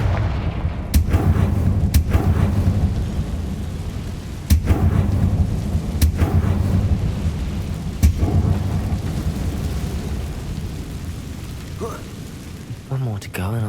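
Confringo blasting-spell explosions in the Hogwarts Legacy video game, several sharp loud booms at irregular intervals over a constant rumbling game soundscape, with a final burst of blasts near the end.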